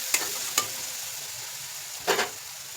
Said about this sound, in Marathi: गॅस स्लो करून भाजून घ्यायचं चांगल्या प्रकारे असं.